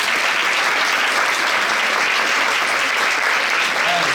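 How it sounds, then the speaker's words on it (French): Loud, sustained applause from an evening show audience, a thick unbroken wall of clapping from a large crowd that keeps an even level for the whole stretch. "Vous pouvez le dire avec des applaudissements"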